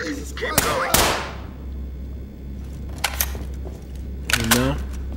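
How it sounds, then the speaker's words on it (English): Sharp gunshots in Ready Or Not, two loud close cracks near the start followed by a few quicker, fainter reports, with a voice talking in between. "No, I'm taking shots."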